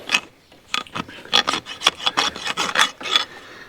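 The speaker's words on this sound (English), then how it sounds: "I'll quite often take my rasp and just smooth off the rough edges on that clinch" A farrier's rasp smooths the rough edges of a nail clinch on a horse's hoof, with a dozen or so close, crisp scraping strokes in an uneven back-and-forth rhythm separated by short pauses.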